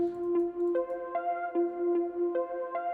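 A pitched-up melodic sample treated with Portal, Vintage Verb and EQ effects plays a bright, stepping tonal line with a short note change about every 0.4 seconds, steady in level and alone with no voices.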